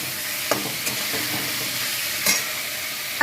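Boiled jackfruit dropped into a pan of spice paste that is already frying in oil, giving a steady close sizzle with a few sharp clatters as pieces land and are stirred.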